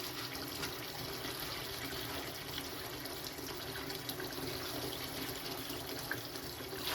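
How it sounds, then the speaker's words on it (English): Collard greens being washed in a sink of water, with a steady, continuous rush and splash of running water throughout, close and fairly loud, without talk. "I wash my greens until the water turns clear"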